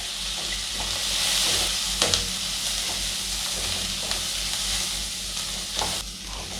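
Chopped ginger, garlic and cashews frying in a pan for paneer butter masala gravy, a steady close sizzle with occasional stirring clicks, no voices.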